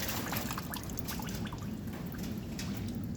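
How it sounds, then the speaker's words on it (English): Water from a homemade camper-sink setup in a shop trickles and splashes into a bucket, a continuous close running-water hiss with small drips. "Just put your hand under it and water runs into the bucket."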